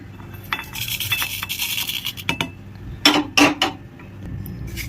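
Dry whole spices for a bharwa tinda stuffing crushed in a kitchen grinder or mortar, heard as scraping, clattering rubs with a couple of louder knocking bursts near the end, close and steady, no talking.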